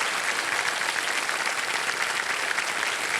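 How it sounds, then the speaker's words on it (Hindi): Studio audience on the KBC game show applauding steadily, a dense, even wash of clapping from many hands that fills the whole stretch at a constant level, with no voices on top. "आपके लिए तालियां बज जाए इनके लिए।"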